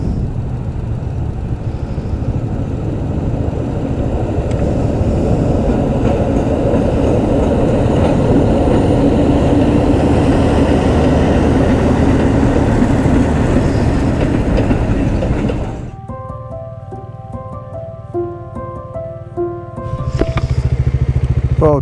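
A train rumbles past a railway crossing in Myanmar loudly and steadily with a rattling clatter, then fades, leaving the crossing bell ringing in repeated tones before the noise returns.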